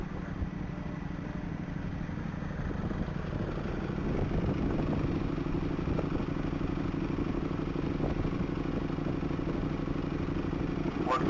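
A roughly 1,000 horsepower Corvette at a Texas Mile top-speed event, heard as a steady, loud, continuous engine roar that swells slightly after a few seconds and holds without any talking.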